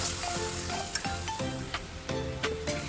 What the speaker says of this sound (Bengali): এদিকে রসুনগুলো হালকা ব্রাউন কালার হয়ে যাচ্ছে।